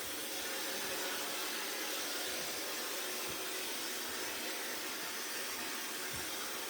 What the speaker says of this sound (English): any blow dryer that has a nozzle, you're really directing that airflow